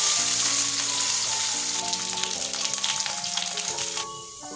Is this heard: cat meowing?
no